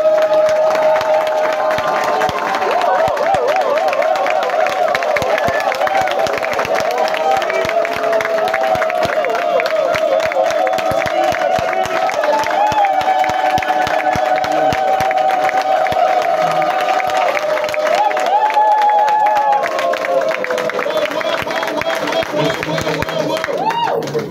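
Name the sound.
audience applauding and cheering for Maman Denise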